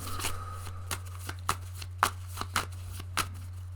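Tarot cards are shuffled by hand in a quiet room, a series of crisp riffling bursts and soft flicks at an uneven rhythm, close and fairly faint over a low steady hum, with no talking.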